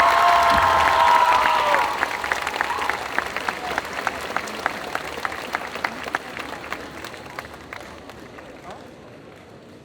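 An audience at a cosplay contest claps loudly at first, settling into rhythmic clapping in unison that gradually fades, with crowd voices underneath.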